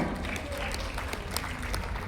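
At a church Christmas and New Year celebration for medical workers, a crowd applauds a couple married fifty years, with scattered, fairly faint claps over low room rumble.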